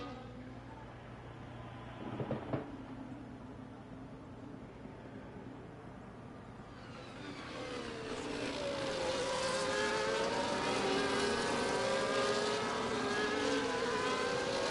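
Sim-racing cars restarting at Bahrain, engines roaring up together after a quieter stretch, a loud, sustained multi-car drone with rising and falling pitch filling the second half.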